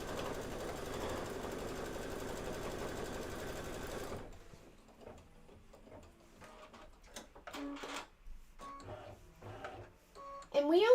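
An embroidery sewing machine stitches steadily at first, a dense continuous whir, then drops to quieter scattered ticks and clicks with brief louder bursts toward the end.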